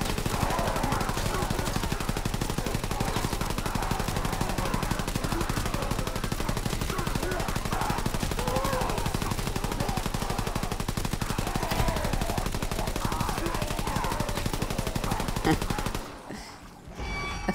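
Rapid, continuous machine pistol gunfire rattles in a WW2 zombies video game, dense loud bursts that run nearly unbroken before cutting off abruptly near the end.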